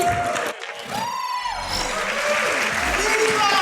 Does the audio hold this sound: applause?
yes